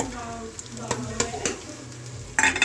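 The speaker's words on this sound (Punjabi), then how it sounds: "ਹੁਣ ਅਸੀਂ ਪਾ ਦਾਂਗੇ ਆਪਣਾ ਅਦਰਕ ਨਾਲ ਨਾਲ ਪਾ ਦਵਾਂਗੇ ਆਪਣੀਆਂ ਹਰੀਆਂ ਮਿਰਚਾਂ ਤਾਂ ਜੋ ਇਹ ਵੀ ਭੁੱਜ ਸਕਣ" Ginger and green chillies fry in a pan for a brinjal and pea bharta: a soft sizzle with sharp spatula stirs and scrapes, ending in a louder burst of sizzling.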